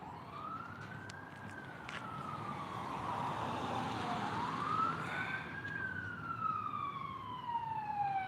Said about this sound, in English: Sounds like we got another one coming over the bridge.